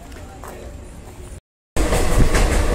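Vande Bharat Express train noise rumbles and rattles at a Mumbai station; a brief silent gap cuts the sound before a louder, closer rush of carriage noise resumes.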